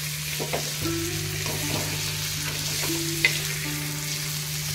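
Stuffed bangda mackerel fries in masala in a pan, a steady close sizzle with faint stirring scrapes throughout and no voices.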